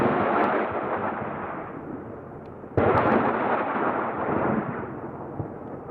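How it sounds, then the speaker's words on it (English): Rockets fired from an AH-64 Apache attack helicopter roar out in two loud, sustained rushing blasts, a fresh launch kicking in near the midpoint, with a dense rumbling roar throughout and no voices. "Once ignited, the rocket exits the launch tube and follows an unguided path toward its designated point."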